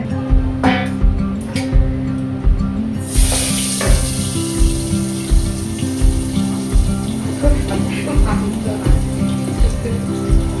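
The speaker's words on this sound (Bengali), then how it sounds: "তাহলে মাছটা ভেজে নিই" Fish frying in a wok (kadai) at home: a hissing sizzle rises sharply about a third of the way in and holds steady over a low, rhythmic background.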